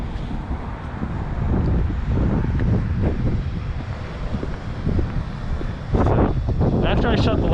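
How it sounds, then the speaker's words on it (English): Wind buffets the microphone outdoors at night in the town area of Stockbridge, Georgia, a loud, steady roar with gusty surges, and a person talks over it. "It's so windy though"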